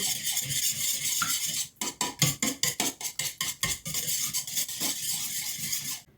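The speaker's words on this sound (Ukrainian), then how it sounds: "Зараз все добре треба збити перемішати, перебити до однорідності." A salted batter for Ukrainian dzyama whisked by hand in a bowl, about a dozen quick rhythmic clinking strokes in a burst near the middle, framed by a steady hiss before and after.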